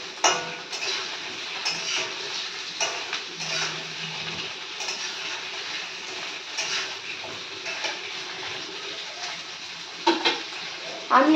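Sweet potato, carrot and beans frying in a pan for a Bengali Nabaratna dish, a soft steady sizzle with occasional clinks and scrapes of stirring, and a voice talking over it.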